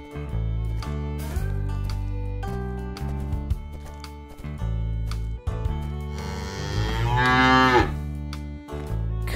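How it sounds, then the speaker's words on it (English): Cow mooing over a loud rhythmic children's music track, with a long drawn-out moo rising near the end, close and clear. "Cow."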